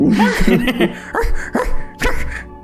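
A voice mimics a beagle barking, giving several short, gruff woofs in quick succession, close and loud.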